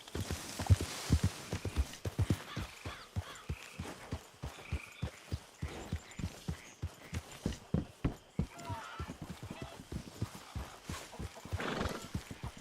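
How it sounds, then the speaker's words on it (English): Horse hooves clip-clop in a steady, sharp rhythm in Red Dead Redemption 2, joined by a whinny and faint background voices, moderately close and fairly quiet overall. "Get that horse out of here!"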